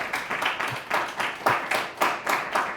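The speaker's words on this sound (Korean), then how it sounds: "마지막으로 좋은 발표해 주신 병준님한테 박수 한번 해주시면 감사하겠습니다" A small audience claps for a presenter at an electric-vehicle-building seminar, with a short burst of rhythmic, fairly close hand claps pulsing in waves and no talking.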